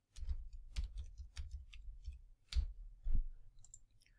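A computer mouse clicks repeatedly at close range in an irregular rhythm, about nine to ten crisp, sharp clicks spread over a few seconds in an otherwise quiet room with no voices.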